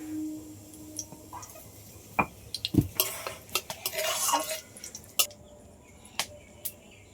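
Cumin seeds and bay leaves go into hot oil in a wok, bringing a brief burst of crackling sizzle among scattered clinks and scrapes of a spoon against the metal pan.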